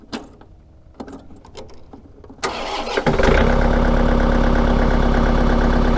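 A diesel tractor engine cranks briefly, then catches and settles into a loud, steady low rumble that runs to the end, with a few faint clicks as the glow plugs heat before it starts.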